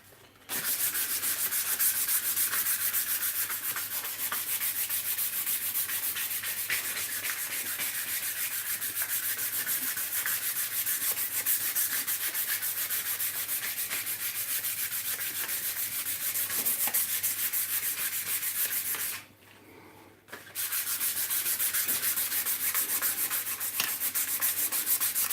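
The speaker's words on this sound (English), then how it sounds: "Just sanding my wood." Sandpaper worked steadily over a piece of wood in a continuous, close, hissing scrape that runs almost the whole time. It breaks off once briefly before resuming, with no voices.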